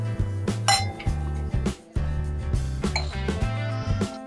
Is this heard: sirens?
no